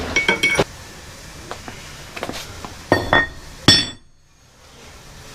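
Sharp metallic hammer blows pound a bearing onto a Toyota axle in a workshop, coming in quick clustered strikes with ringing clinks, then a pause and a few heavier hits before falling quiet.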